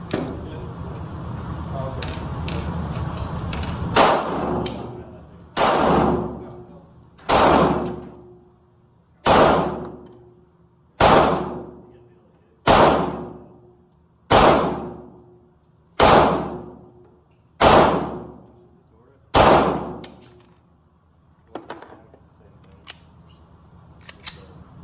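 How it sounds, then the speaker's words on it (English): Budget Smith & Wesson pistol fired at a shooting range: ten loud, sharp reports spaced about every one and a half seconds, each with a short ringing decay, after a stretch of low ambient noise. "We're going to put 20 rounds on the target with each of the 3 guns. We'll start with the Smith & Wesson."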